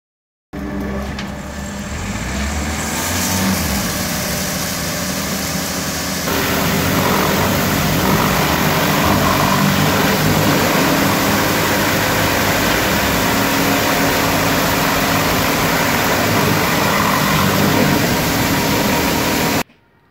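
A touchless ROBOWASH automatic car wash sprays tire chemical and blasts water at the tires and underbody, a loud, steady roaring hiss that swells after several seconds and then cuts off at the end.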